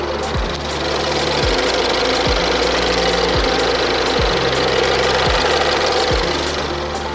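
A Ford 2.0 EcoBoost car engine idles close by with a steady, quiet low rumble and soft rhythmic ticks repeating about once a second.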